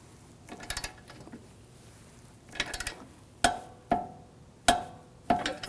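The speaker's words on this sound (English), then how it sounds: "Now we're going to torque this nut and bolt to 33 foot-pounds" A torque wrench tightens a control arm nut and bolt to 33 foot-pounds on a 2006-2009 Audi S4, a few ratcheting bursts followed by four sharp metallic clicks, close and clear, with no talk.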